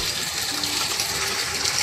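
Recycled water runs through PVC pipes feeding plants at a Japanese restaurant and cafe garden in Alfonso, Cavite, a steady close gushing and trickling flow with no voices.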